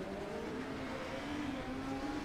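A race car engine drones in a racing video game set at New Hampshire, a steady mid-pitched whine that rises slightly in tone, with no voices over it.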